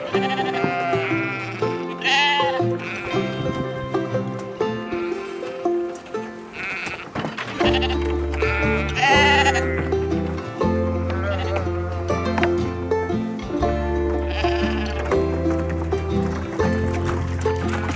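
A flock of sheep bleats repeatedly and fairly close while moving through a foot bath on a farm, some of them slightly lame, with overlapping calls under a steady, droning background.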